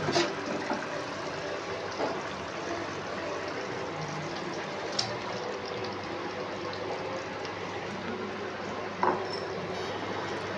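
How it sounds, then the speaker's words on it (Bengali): Curry gravy simmering in a pan as eggs go in, a soft steady bubbling hiss at low level with occasional small splashes and clinks. "দেখুন ঝোলটা ফুটতে শুরু করেছে।"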